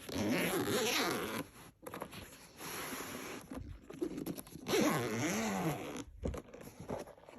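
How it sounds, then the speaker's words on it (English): A zipper on a Theragun Elite massager's case is pulled open in several long rasping strokes, close and loud, with brief pauses between pulls. "Zipper."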